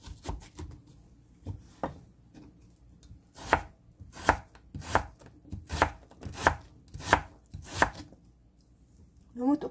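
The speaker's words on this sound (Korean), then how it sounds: "나박으로 한번 썰어 보도록 하겠습니다" Radish halves sliced thin with a knife on a cutting board, a series of crisp, evenly paced chops close by, growing steadier and louder midway before stopping.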